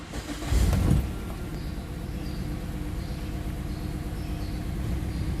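A car engine idling rough with a misfire on cylinder 3 and the check engine light on, starting with a louder burst then settling into a steady, uneven run close by, with no talk.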